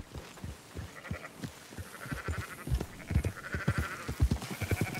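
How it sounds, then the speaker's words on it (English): Sheep bleating in the video game Red Dead Redemption 2, a flock giving repeated overlapping bleats at irregular intervals, some near and loud, others fainter, with no talk. "why don't you leave the sheep to me?"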